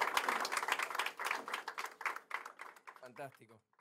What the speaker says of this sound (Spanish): puedo aplaudir esta segunda vez